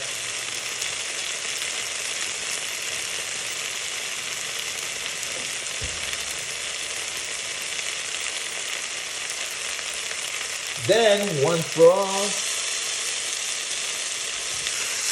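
Steady, loud sizzling of food frying in a pan runs throughout, with a brief stretch of a voice speaking over it near the end.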